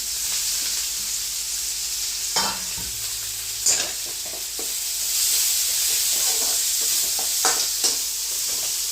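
Chopped onion, green chilies and curry leaves sizzle steadily in a hot pan, a continuous frying hiss broken by a few louder stirring scrapes and crackles, with no talking.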